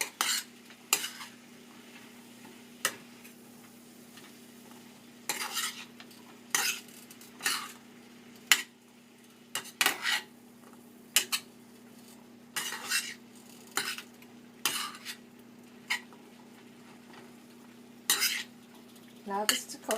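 A spoon scrapes and clinks against a pot while Guyanese chickpea curry (chana) is stirred, giving irregular short bursts of stirring over a low steady hum and a faint simmer, fairly quiet and close.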